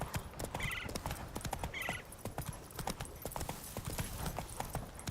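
Roach the horse galloping in The Witcher game, a fast steady clip-clop of hooves with a couple of brief whinnies over a dense outdoor backdrop.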